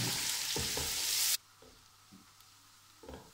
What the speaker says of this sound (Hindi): ये प्याज जो है ये गोल्डन ब्राउन हो गया।